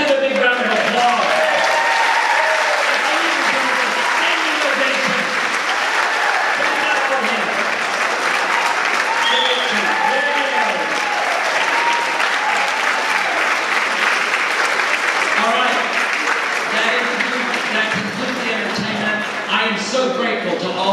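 A school audience at Adamson High School claps for an entertainer: dense, sustained applause that stays loud and even from start to finish, a crowd of many hands with no talk over it.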